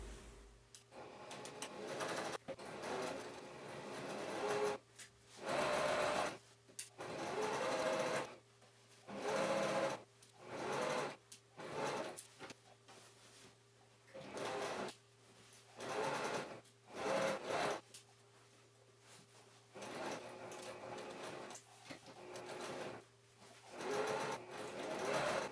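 Sewing machine stitching a bag, running in repeated bursts of a few seconds each with short pauses between, close and clear, with no talking.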